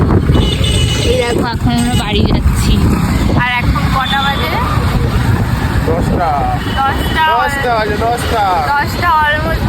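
Riding a motorbike through town at night around 10 pm, with steady loud wind and road rumble throughout and a voice talking over it almost continuously.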